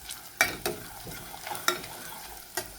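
Tuvar papdi with chili powder and salt mixed in a pan, giving a handful of distinct spatula knocks and scrapes over a faint background sizzle, quiet and close with no talking.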